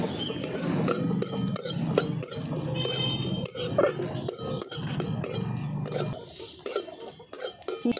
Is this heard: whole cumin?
yes